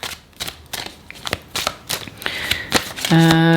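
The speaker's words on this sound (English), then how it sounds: "But let's get some tarot cards here." Tarot cards being shuffled by hand, a series of soft riffling and flicking bursts with a brief musical tone near the end, heard up close.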